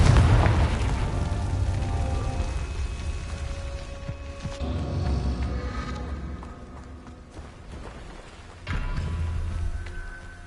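Booming spell explosions from Confringo in a video game, a heavy blast at the start and another sudden burst near the end, with rumbling magical effects and tonal chimes in between.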